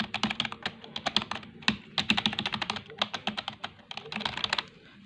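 Rapid typing on an inexpensive Logitech computer keyboard, dense irregular clicks and clacks heard close and clear with no talking.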